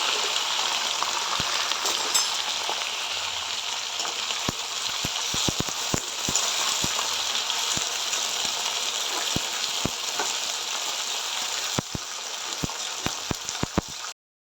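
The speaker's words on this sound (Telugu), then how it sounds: "ఆయిల్లో వంకాయలు మగ్గుతున్నాయి కదా" Brinjal pieces frying in hot oil for vangibath rice, a steady close sizzle with scattered sharp pops and crackles throughout, no talking.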